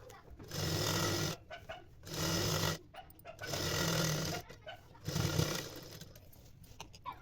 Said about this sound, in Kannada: ಬಾಡಿ ಬಟ್ಟೆ ಮತ್ತೆ ನಾವು ಕೊಟ್ಟಿರುವಂತ ಪಟ್ಟಿ ಪೀಸ್ ಎರಡನ್ನೂ ಸೇರಿಸ್ಕೊಂಡು ಹೀಗೆ ಸ್ಟಿಚ್ ಹಾಕೊಳ್ತಾ ಹೋಗ್ಬೇಕು